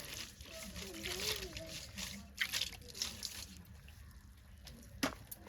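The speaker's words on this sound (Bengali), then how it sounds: "আর একটু ভালো ঠান্ডা জল দিয়ে ধুয়ে নেব" Boiled snails are rinsed with cold water, giving soft trickles, small splashes and a few sharp clinks up close while a voice talks over the washing.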